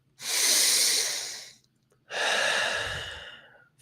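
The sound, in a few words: deep breathing during a breathwork exercise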